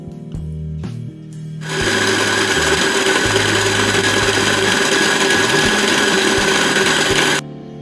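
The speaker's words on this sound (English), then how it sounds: "And now I'm going to mix this on high speed for 6 minutes." Electric stand mixer beating lemon cake batter on high speed, a loud steady motor whine starting after a brief click and running evenly before cutting off abruptly.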